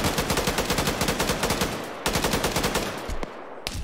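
Rapid automatic gunfire in a video game, loud sustained bursts of closely spaced shots with a brief break before a few final single shots.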